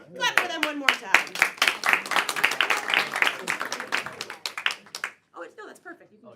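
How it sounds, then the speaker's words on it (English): Audience clapping at a live event, a lively run of sharp individual claps from a modest crowd mixed with voices, fading out and pausing near the end. "Clap for them one more time."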